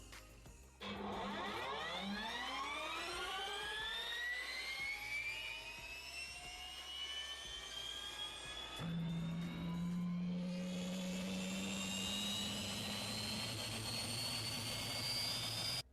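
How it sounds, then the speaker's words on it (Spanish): An electric starter motor spins up a turbojet engine: a steady whine climbs in pitch for several seconds, then shifts into a louder, fuller turbine roar. "Este es el sonido que hace el motor eléctrico."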